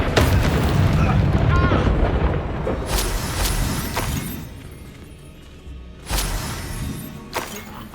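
Fiery blast spell in Hogwarts Legacy gameplay: a heavy rumbling explosion with crackling debris, followed by sharper bursts and impacts near the end, loud and close with faint voice mixed in.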